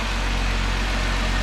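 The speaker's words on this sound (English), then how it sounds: "So with the engine on, it's got plenty of power." A 2016 Jeep Wrangler engine idles steadily and loudly up close, a continuous low rumble with no voices over it.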